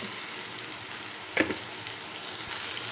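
Moringa drumsticks and onions frying in a pan give a steady, soft sizzle with a brief clatter of stirring partway through.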